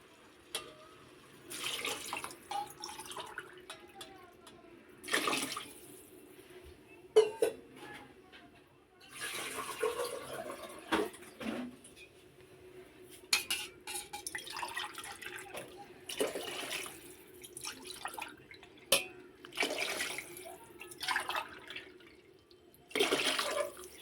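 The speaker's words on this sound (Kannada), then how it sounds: "ನೀರು ಹಾಕೋತಾ ಇದ್ದೀನಿ" Several separate bursts of water splashing and pouring into a pot of rice, each a few seconds long, with quieter gaps and faint clinks between them.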